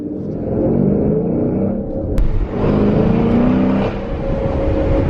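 Dodge Challenger R/T with the 5.7 engine and BBK headers, heard from inside the cabin. The V8 revs up under acceleration with a deep, steady rumble, then shifts briefly and pulls again, loud and close.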